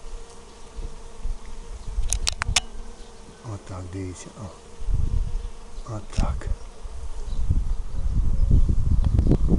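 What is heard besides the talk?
honeybees flying over flowering phacelia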